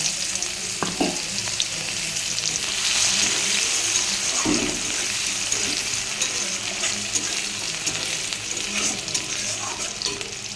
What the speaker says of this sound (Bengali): কড়াইতে তেজপাতা পাঁচ ফোড়ন দিয়ে দিলাম পেঁয়াজ কেটে রেখেছি দিয়ে দিচ্ছি